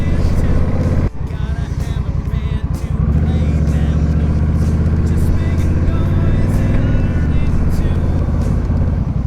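Honda Rebel 1100 cruiser motorcycle riding along a road toward downtown Nashville, a loud steady low engine drone with wind rush, briefly dipping then holding a constant cruising pace throughout.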